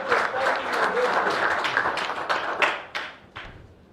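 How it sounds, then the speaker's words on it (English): Crowd at a Tonse Alliance political rally in Petauke, Zambia clapping together, a dense steady round of applause with some louder individual claps standing out, tapering off toward the end. "I'll ask all of us to clap for Tonse for winning Petauke again."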